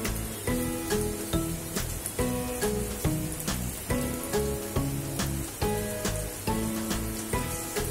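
Battered elephant foot yam frying in oil over a low gas flame, a steady crackling sizzle punctuated by regular sharp taps and faint musical tones running throughout.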